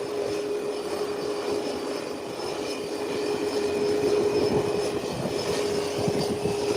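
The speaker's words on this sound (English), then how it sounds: "Both engines are now on the Twin Otter, and it will be taxiing away from this parking area soon." Both engines of a Twin Otter turboprop running on the apron before taxiing, a steady droning roar with a constant high whine, moderately close and unbroken, with no talk.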